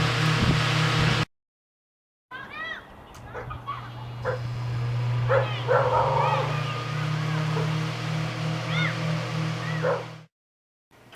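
A Marvin window fan runs at very high RPM, giving a steady low drone for most of the clip, with yip-like chirps and brief noises over it and short silent gaps at the start and end.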